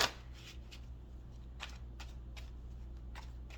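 Oracle cards shuffled by hand in a quiet room, a run of soft papery riffles and slides in short irregular bursts, close and fairly faint over a low steady hum.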